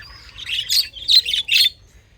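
Birds chirp in three quick bursts of high, bright tweets, close by, with faint low rumble underneath.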